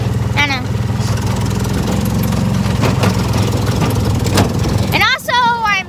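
A golf cart's small engine runs steadily while the cart is driven along farm trails, a loud buzzing drone that fills the whole stretch, with voices speaking briefly near the start and again at the end.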